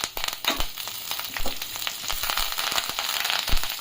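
Dense, steady sizzling crackle of 10 to 12 curry leaves in hot oil for a tadka, with sharp pops scattered throughout, close and fairly loud.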